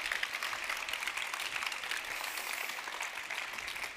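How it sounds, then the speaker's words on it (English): An audience at a ChangeNOW 2023 session applauds, a dense patter of clapping at moderate, somewhat distant level that holds steadily throughout. "give him a round of applause"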